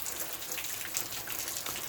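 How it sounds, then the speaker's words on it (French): Steady rain pours outdoors on a construction site in mid-July, a dense, continuous patter of drops hitting surfaces at an even level from start to finish, with no voices. "il pleut, il pleut toujours bien"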